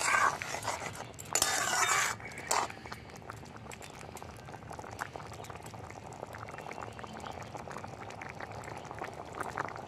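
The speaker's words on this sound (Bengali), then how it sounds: "ভালো করে ফুটিয়ে নেব।" A pot of Bengali veg dal seasoned with ghee and garam masala boils on the stove, a continuous close bubbling simmer, with a louder burst of stirring or pouring near the start.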